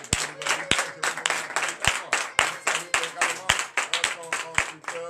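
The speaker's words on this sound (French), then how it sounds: "je vous demande de l'applaudir très fort" A church congregation at a Sunday service in Comè, Benin, claps in a steady, rhythmic pattern, dense and lively, with many hands striking together and sharp accents recurring throughout.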